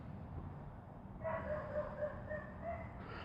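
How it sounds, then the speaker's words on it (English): A dog barks repeatedly somewhere in the background of a room, a run of short, fairly faint yaps at a quick, uneven rhythm after a quieter opening. "I don't know why their dog's barking."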